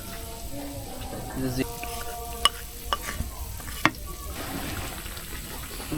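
Cumin seeds crackling in hot oil in a village kitchen, a steady sizzle with stirring scrapes and a few sharp metallic knocks against the pan, faint tonal hum in the background.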